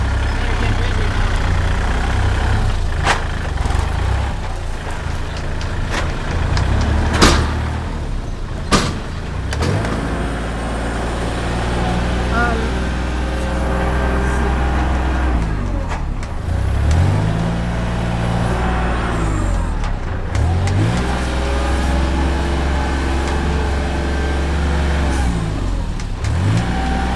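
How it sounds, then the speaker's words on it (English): A dump truck hauling a load of dirt arrives, its engine droning steadily and loudly throughout with rising and falling revs as it moves, with some clunks and rattles along the way. "We got another one right here. Another truck come."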